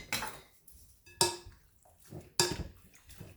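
Steak and onions being tossed with seasoning in a bowl: three separate bursts of utensil clinking and scraping against the dish, close and fairly quiet, with short pauses between them.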